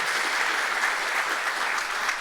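A crowd gathered for the ribbon cutting of a new university engineering building claps steadily in a short, even burst of applause, moderately loud with no voices on top.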